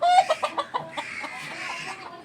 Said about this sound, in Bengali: একদম আসল অরিজিনাল দেশি মুরগি।